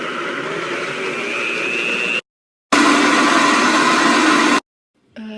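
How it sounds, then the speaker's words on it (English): Vitamix blender running at high power as it purees hummus with garlic, two loud sustained whirring bursts separated by brief pauses, then a third burst starting at the end. "The setting that works best if you have this type of Vitamix is frozen desserts,"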